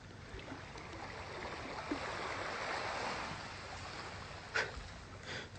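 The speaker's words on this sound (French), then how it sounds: "Elle se couche avec le bruit des vagues" Steady wash of ocean waves rolling in at night in Tahiti, a continuous broadband rush with occasional louder splashes, fairly close and without any voices.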